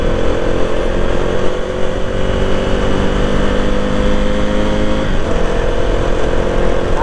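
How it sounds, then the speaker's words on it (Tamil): A motorcycle engine runs just after an engine oil change, loud and close with a steady, even throb that shifts slightly in pitch near the end, with no voices over it. "இன்ஜின் ஆயில் மாற்றின உடனே சவுண்டே வேற மாதிரி இருக்குது"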